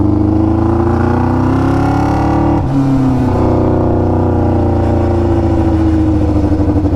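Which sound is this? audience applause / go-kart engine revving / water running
go-kart engine revving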